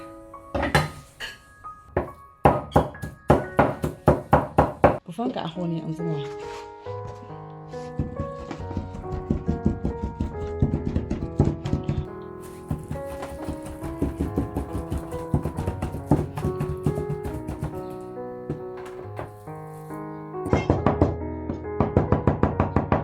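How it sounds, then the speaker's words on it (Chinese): Raw shrimp meat is chopped with a cleaver on a board, in rapid rhythmic bursts of close, sharp knocks with brief pauses, over background music, and a voice speaks briefly. "现在把虾拿来剁一下"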